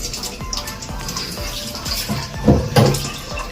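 Water running into the tub of a HotStar washing machine, a steady close wash of splashing with a few louder gurgling surges near the end.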